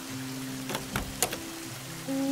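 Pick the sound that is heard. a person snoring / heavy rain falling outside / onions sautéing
heavy rain falling outside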